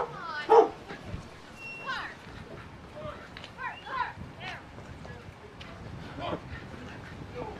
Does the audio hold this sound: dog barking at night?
yes